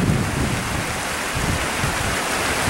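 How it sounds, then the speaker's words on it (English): Steady, loud rain falls in wet mountains beside a full creek in a gorge, a dense continuous hiss and rush with no pauses or voices. "it's decided to rain again"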